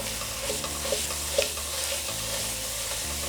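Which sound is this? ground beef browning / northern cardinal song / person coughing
ground beef browning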